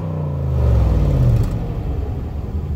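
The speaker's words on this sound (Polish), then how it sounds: "Zwłaszcza, że wydech cudownie ryczy." A Range Rover Sport P525 with a 5.0 supercharged V8 lets out a deep exhaust roar that swells, then fades into a lower rumble, loud and close.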